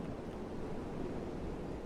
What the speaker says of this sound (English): Oh no, it's Sandstorm.